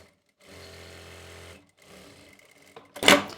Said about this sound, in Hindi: दोनों हिस्सों को बिल्कुल बराबर करते हुए यहाँ से सिलाई लगा लेंगे